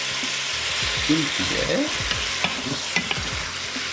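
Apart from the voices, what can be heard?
stirring flour into sizzling meat in a pan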